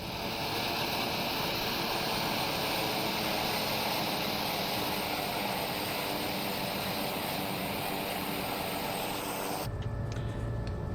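Steady, loud drone of a TBM turboprop aircraft engine in the X-Plane 11 flight simulator, running continuously with no speech before cutting to a quieter hum near the end.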